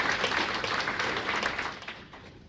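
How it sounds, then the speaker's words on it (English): A quick round of applause from the audience at a dairy industry panel session, dense and steady, then thinning out and fading toward the end. "quick round of applause"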